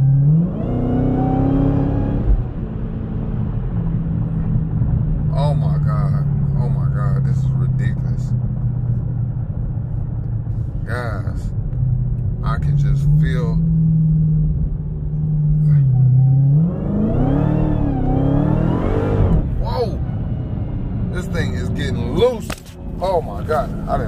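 A 797-horsepower widebody Redeye car engine drones and revs up and down as its wheels slip, beneath loud talking, rising in pitch at times as the motor strains, close and continuous throughout.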